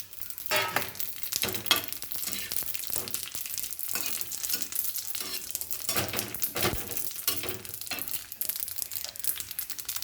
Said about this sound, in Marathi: ती लवंग उडून दिली मिरी लवंग उडते ना